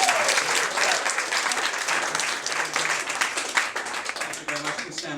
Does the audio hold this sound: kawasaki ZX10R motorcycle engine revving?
no